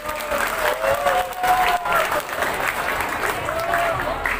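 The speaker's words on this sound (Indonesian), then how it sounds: "Tepuk tangan untuk kandidat nomor urut 3." Audience applause for a candidate in a school student council debate, moderately loud and continuous, with a voice speaking over it through much of the clapping.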